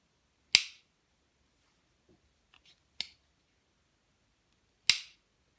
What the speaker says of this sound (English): So I'll give you the sound of the lockup here.